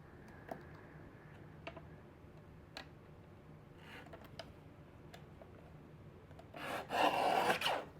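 A blade trims the edge of a card panel with faint, sparse ticks and soft scraping, then a short, louder rasping cut near the end, close and quiet with no talking.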